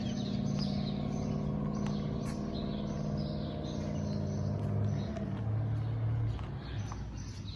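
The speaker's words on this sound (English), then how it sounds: "A few cars out driving, but not too many others." Cars drive past on a street in historic Jonesborough, Tennessee, a steady low engine and tire rumble swelling and fading, with faint birdsong chirping over the top.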